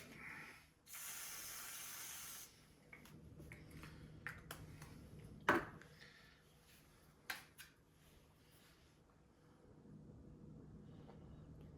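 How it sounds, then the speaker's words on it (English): A short burst of hissing aerosol whipped cream spray from a can near the start, followed by quiet clicks, taps and handling noises. "Give our aerosol whip a little"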